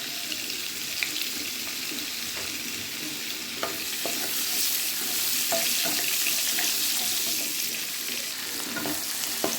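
Onion and garlic fry in vegetable oil and butter in a kadai, a steady bright sizzle with soft stirring scrapes and small clicks throughout, no voices.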